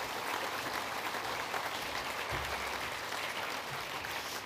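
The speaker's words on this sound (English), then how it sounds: "Let's give her a big round of applause." Steady audience applause at the ILT Southland Sports Awards 2022, a dense, even wash of many hands clapping that carries on for several seconds at moderate distance, with no speech over it.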